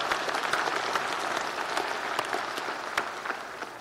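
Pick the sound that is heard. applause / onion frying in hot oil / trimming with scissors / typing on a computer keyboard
applause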